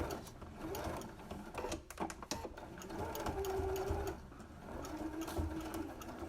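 A sewing machine runs in short bursts while back stitching a fabric face mask, its needle mechanism whirring and clattering close by at a quiet level, pausing between runs.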